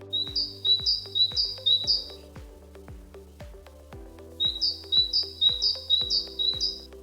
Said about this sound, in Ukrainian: Малята синичка співає пінь-пінь-піть, пінь-пінь-піть.